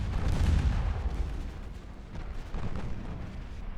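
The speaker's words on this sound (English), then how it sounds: "One torpedo hit on her stern, though." A torpedo strikes a warship's stern in the naval battle game Ultimate Admiral Dreadnoughts, heard as a heavy, deep explosive rumble that booms loudly and then rolls on through the few seconds with no talk.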